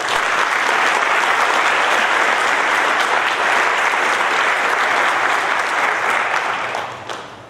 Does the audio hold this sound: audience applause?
yes